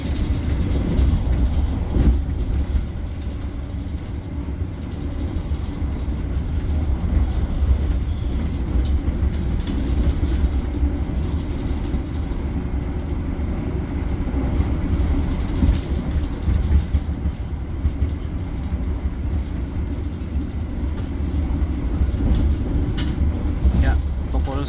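The KA Argo Bromo Anggrek executive train rolls on at speed, heard from inside as a steady low rumble with faint rhythmic rail clatter. A voice talks now and then beneath the noise.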